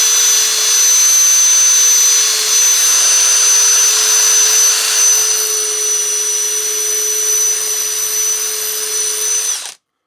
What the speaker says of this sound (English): I'll just use the drill again to clean out that